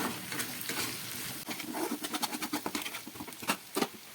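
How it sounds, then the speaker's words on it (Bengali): Chicken is fried and stirred in a pan with a paste of ginger, garlic, onion, dried chilli and a little black pepper, producing soft, irregular pattering and scraping close by with a faint sizzle underneath. "এবারে এর মধ্যে দিয়ে দিচ্ছি পেস্ট করা মশলা। এখানে আছে আদা, রসুন, পেঁয়াজ, শুকনো লঙ্কা আর সামান্য গোলমরিচ।"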